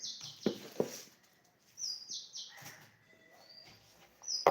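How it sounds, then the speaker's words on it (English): Small birds chirp in short, faint bursts outdoors on a cold morning, a few scattered calls separated by quiet gaps. "there is beautiful sound of birds over here, stripping sound of birds."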